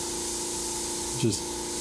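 A steady airbrush hiss sprays paint continuously, close and even, with a brief murmured voice cutting in partway through.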